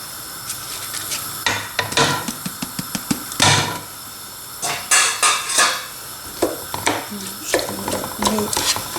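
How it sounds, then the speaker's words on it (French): Washed lentils pour into a pot of diluted broth, with a rattling, scraping clatter of pot and utensil in irregular bursts, close and fairly loud. A voice speaks in between. "Je rajoute les lentilles lavées."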